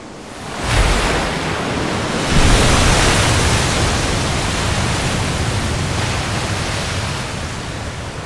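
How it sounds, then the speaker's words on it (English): Boiling sea surf in the video game Dragon Quest XI, a steady loud roaring wash of churning water that swells after the first second and holds throughout, with no talk. "The sea, it's boiling!"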